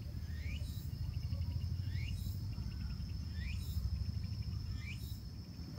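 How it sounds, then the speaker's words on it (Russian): Cicadas shrilling in riverside brush near Inagi, Japan, with four regular rising chirp bursts repeating every second or so above a steady high whine and low wind rumble, moderately loud and continuous. "А здесь только цикады."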